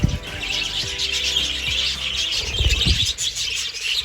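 Budgie parakeet chirping in quick, soft repeated calls against a busy background hiss, near and moderately loud, with a few low thumps.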